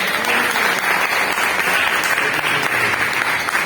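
A church congregation claps loudly and continuously for a few seconds, a dense, close, even roar of many hands without pause or speech.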